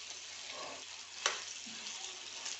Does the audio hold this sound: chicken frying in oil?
yes